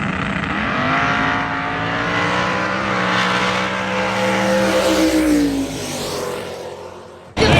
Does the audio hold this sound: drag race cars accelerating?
yes